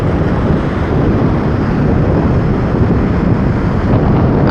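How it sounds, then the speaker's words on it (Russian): Stormy Sea of Azov at Schastlyvtseve: loud roaring waves and strong gusting wind buffet the microphone in a dense, unbroken rumble, with no voices heard. "Точно океан штормит. Шторм, волны."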